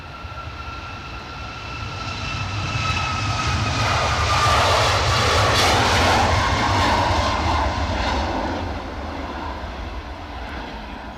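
An American Airlines airliner moving on the runway at Edinburgh Airport, its engines building into a loud, broad roar that peaks midway and then eases slightly, with no voices over it.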